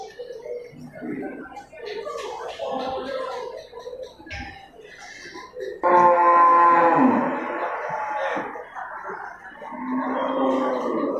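Jumbo Simmental cattle moo loudly and close at a livestock market before Eid al-Adha, a long bellowing call rising over the crowd while people talk throughout.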